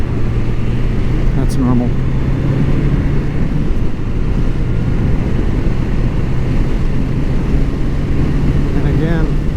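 A 1981 Honda CB750C motorcycle engine idles nearby with a steady, dense low rumble and a faint whine as the revs drop back, and someone speaks briefly over it.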